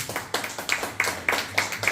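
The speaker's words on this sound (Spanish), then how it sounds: "Denle un fuerte aplauso al Señor" A congregation at a church service claps in short rhythmic bursts, a handful of sharp beats repeating roughly every quarter second, moderately loud and steady, with no voices on top.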